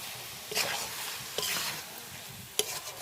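Chicken sautéing with chili powder, turmeric, salt and chicken masala in a pan makes a soft, close sizzle, stirred in three scraping sweeps with a sharp clink of the spoon against the pan.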